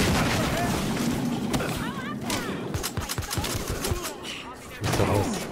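Gunfire crackles in the video game Battlefield Hardline, scattered sharp shots and bursts under a dense, busy mix of game noise, with players talking over it.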